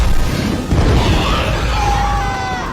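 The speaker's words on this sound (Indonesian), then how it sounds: "Setelah ledakan hebat," A big explosion from a monster film fight against a Skullcrawler booms loud and close, then rolls into a long crackling rumble with debris-like hiss as it slowly dies away.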